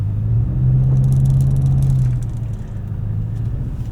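A 2025 Toyota TRD Pro off-road truck climbs a trail with a low, close engine drone and rumble that eases after about two seconds, leaving a rough rattling idle.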